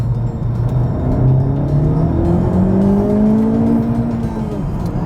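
A 2019 Honda Civic Type R engine revs hard in second gear, its pitch climbing steadily from a low growl to a strained whine, loud and close from inside the cabin with no talking.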